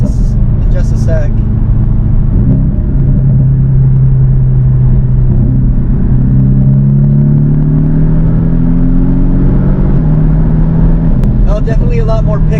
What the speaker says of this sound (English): But I'm gonna get on full throttle here in just a sec.